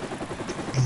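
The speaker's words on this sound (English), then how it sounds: "Enemy helicopter approaching!" An enemy helicopter in the video game Modern Warfare Remastered gives a brief, steady rotor rumble with soft rhythmic thumps, fairly loud and close, swelling slightly at the end.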